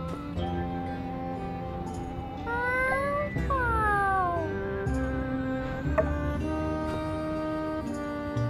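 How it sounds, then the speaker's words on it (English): A cat in the video game My Time at Sandrock gives a drawn-out meow that rises and falls in pitch, heard clearly over steady background game music. "Kitty cat."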